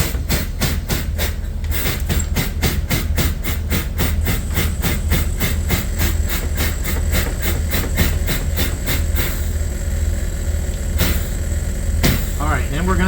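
A GM bus air compressor runs steadily while building air pressure, a loud continuous hiss with a fast rhythmic chugging beat throughout, ending in a few sharp bursts near the end.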